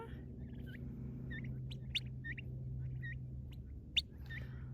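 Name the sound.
free-range farm birds foraging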